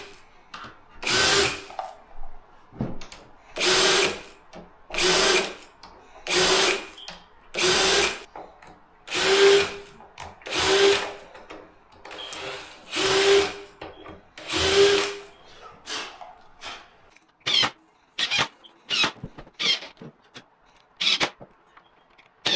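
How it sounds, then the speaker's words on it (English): A power drill fitted with a Trend centralizing drill bit bores into a fire door in a series of roughly a dozen loud, whining bursts, each a second or two long, separated by short pauses. "Here I'm just using the trend centralizing drill bit."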